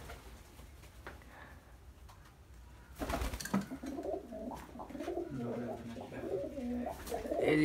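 Many pigeons coo in a new loft, soft overlapping calls that build from sparse to a dense, continuous chorus close by, with a few rustles and a faint voice in the background.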